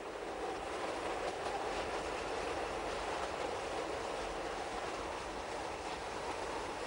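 An Appenzell Railways train runs along the highest part of the network, over 950 metres above sea level, in 1994, giving a steady, continuous rumble of wheels on track with no pauses.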